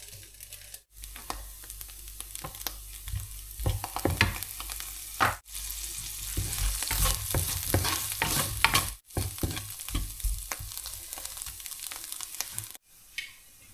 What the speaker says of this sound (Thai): บี ก็จะผัดออหอมใหญ่นะคะแล้วก็มี แครอทนะคะ แล้วก็มันฝรั่งต้มนะคะ